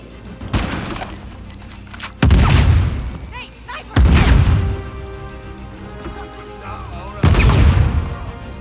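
Sniper fire in Uncharted 4: A Thief's End comes as loud, sharp gunshot blasts, four heavy cracks spaced a second or two apart. Each one leaves a rumbling echo, and game effects and voices sit between the shots.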